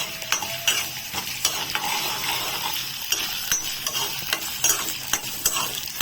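Coconut pieces fry in a pan for a traditional chutney, giving a steady, loud sizzle with a spatula scraping and tapping the pan at irregular moments throughout.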